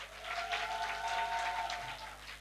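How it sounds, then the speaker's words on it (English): Applause from guests at a medical school finalists' dinner, a steady patter of many hands over 2.5 seconds, moderately loud and fairly even, with faint room hum beneath and no talking. "Clap for her."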